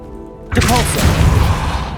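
Casting the Depulso spell in Hogwarts Legacy: a low ambient hum suddenly breaks into a loud, forceful magical blast that rushes on and trails off over the next second and a half.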